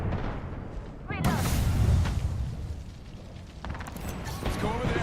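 A frag grenade blows up in the battle royale game Apex Legends, a heavy boom with a rumbling tail, set among other gunfire and game noise while players talk.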